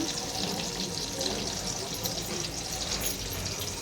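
Water pours into a pan of fish gravy cooking on a medium flame, making a continuous close splashing rush that lasts throughout.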